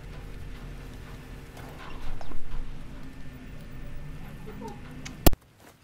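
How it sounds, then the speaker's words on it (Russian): Horse hooves approaching in the Red Dead Redemption 2 video game, soft clip-clop steps over low ambient game noise that build briefly, followed by a sharp click. "Сейчас лошадь нам подойдет."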